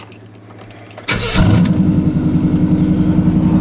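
A four-wheel-drive truck engine cranks briefly after a key jingle, catches with a sharp start, then settles into a loud, steady, slightly high idle close by.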